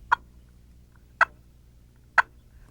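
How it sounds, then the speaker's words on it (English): Three sharp, evenly spaced clucks made on a turkey call, each a short crisp pop against near silence. "And sometimes all you need to make is a cluck."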